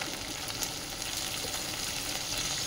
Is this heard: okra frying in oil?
yes